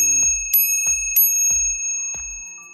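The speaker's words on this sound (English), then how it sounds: "Next, we have the bell" A bicycle bell mounted on a Lectric ebike rings four times in an even rhythm, each bright metallic strike followed by a long, shimmering ring that carries on between strikes, close and clear with no talk.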